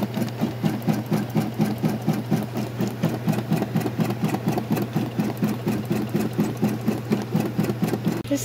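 A sewing machine embroiders a blue checkered dress with a rapid, steady mechanical chatter. It runs continuously at a fairly loud level, close up, with no voices.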